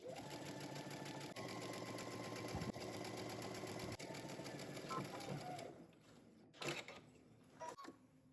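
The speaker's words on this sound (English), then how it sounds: "we're gonna go ahead and stitch, starting again at the hem, working our way up using 5/8 of an inch seam allowance" A sewing machine runs steadily for several seconds, stitching a jumpsuit seam from the hem upward with a 5/8-inch allowance. It then slows and stops, leaving a few short bursts and faint handling noises.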